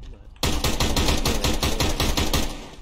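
Automatic gunfire in a shooter video game with bomb planting: one loud, rapid burst of closely spaced shots starts abruptly and rattles on for over two seconds before easing off.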